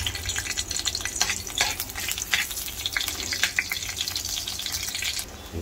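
Garlic frying in a pan, a close, dense crackling sizzle that runs nonstop with bright spitting pops, easing slightly at the very end, no voices over it.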